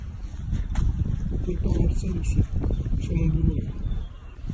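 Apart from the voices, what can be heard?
strong wind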